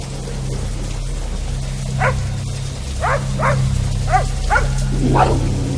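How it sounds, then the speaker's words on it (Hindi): A dog barks and yips in short, whiny bursts, about six times at an uneven pace, fairly close, over a steady low hum. "भौंकने और रोने की आवाजें"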